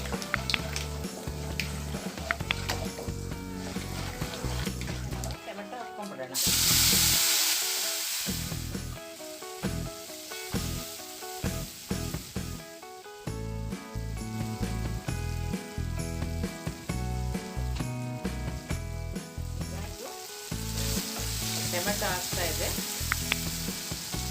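Peanuts fry with turmeric powder in an oiled pan, a loud continuous sizzle broken by stirring scrapes and bursts, with a brief louder hiss partway through; no talking.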